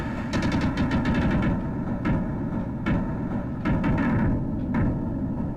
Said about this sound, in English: This is good for presenting the explosion of enemies.